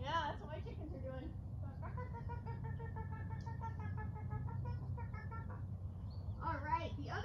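Children and adults at a home learning session voice chicken clucks, a run of rhythmic bawk-like calls with squawks at start and end over a low hum, a human imitation of hens.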